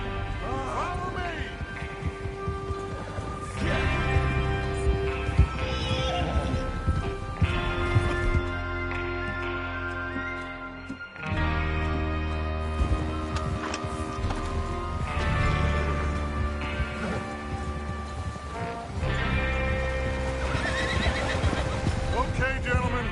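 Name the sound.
horses neighing and galloping in the video game Red Dead Redemption 2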